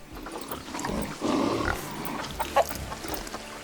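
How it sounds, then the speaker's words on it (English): Tamworth pigs grunt in the Planet Zoo video game, a few short, low snorts and oinks at moderate distance over a soft, busy zoo background, with no voices. "such as the Tamworth pig,"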